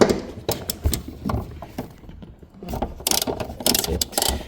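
A ratchet loosens the center seat belt bolt inside a VW Passat CC, a close run of rapid clicking pawl strokes in bursts separated by brief pauses, with no voice over it.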